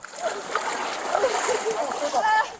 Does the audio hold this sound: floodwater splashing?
yes